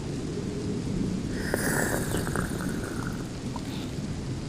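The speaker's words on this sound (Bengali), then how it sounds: "যা বৃষ্টি," Heavy rain pours steadily and loudly while a deep roll of thunder swells through the middle and fades, with no voices present.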